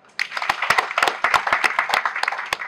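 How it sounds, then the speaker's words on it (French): A small audience at a youth civic-education conference claps in a lively, uneven burst, with sharp individual hand claps standing out close by; no clear cheering or voices emerge. "je vous demande de valider avec suffisamment d'acclamations"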